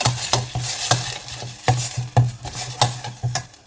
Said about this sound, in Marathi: हे सर्व जिन्नस आपण तेलामध्ये परतून घेऊ